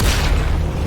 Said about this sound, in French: c'est la première fois que je vois une explosion type 3 sur le point 0